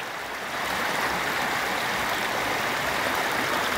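A small creek on a hillside path rushes steadily with broadband watery noise. The sound holds loud and continuous from start to end, with no one speaking.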